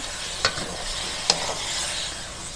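Pork belly with bay leaf stirred in a hot pan, a soft steady sizzle broken by three sharp scrapes or clacks of the utensil against the pan, close and with no talking.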